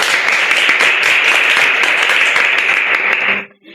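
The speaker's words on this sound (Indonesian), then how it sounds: "Boleh tepuk tangan dulu untuk narasumber." Steady audience applause for a guest on a Ramadan podcast, dense continuous clapping at full loudness for about three and a half seconds before cutting off abruptly.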